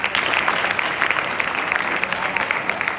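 An audience at a Teachers' Day speech claps steadily, a dense wash of many hands filling the full few seconds at an even, moderately loud level with no pauses.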